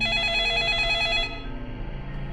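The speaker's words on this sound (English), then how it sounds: "The sudden ringing of the phone startled everyone in the room." A telephone rings in the video game 428: Shibuya Scramble, a bright electronic trill that sounds clearly for about a second before cutting off, leaving a low background hum.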